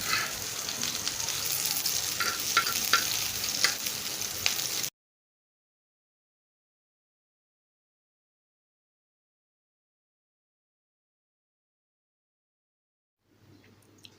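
Egg-coated tikki patties fry on a hot tava griddle, giving a steady close sizzle for about five seconds before it cuts to silence; faint noise returns at the very end.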